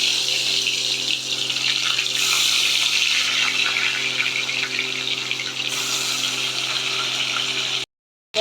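Tangra fish go into hot oil and set off a loud, continuous hiss and sizzle that holds steady for nearly eight seconds before stopping abruptly.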